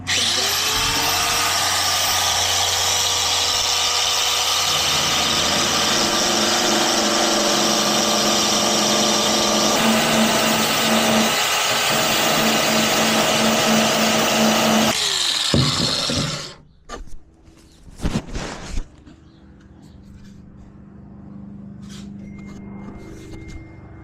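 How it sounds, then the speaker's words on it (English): A power sander whines and grinds steadily against a wooden boat bulkhead for about fifteen seconds, loud and close, then cuts off, leaving quieter knocks and handling noises. "Now we're just gonna sand it down so that it fits right here in the boat"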